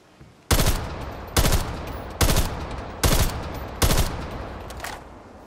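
Five evenly spaced single shots from a Call of Duty Cold War weapon, each a sharp loud crack with a short ringing tail, about a second apart and close by.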